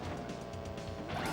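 Crash Team Racing on PS1 throws out a dense, loud smash-and-crash effect, with heavy clattering impact noise running throughout and flaring again near the end, with no talking.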